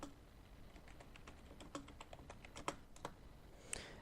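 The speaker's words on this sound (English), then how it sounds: "I'm going to type something up." Fingers tap steadily on a computer keyboard, quiet and close, with an irregular run of light clicks and a couple of sharper keystrokes near the end.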